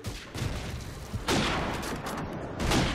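Sniper rifle shots in Call of Duty 4, two sharp, loud cracks about a second apart, each leaving a long, noisy tail over a steady wash of game noise.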